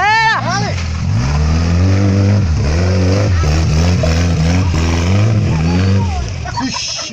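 A Fusca Baja with an AP 1.8 engine and a 1600 buggy rev and accelerate off-road, the loud engine rising and falling in repeated bursts as gears change, while excited voices shout over it.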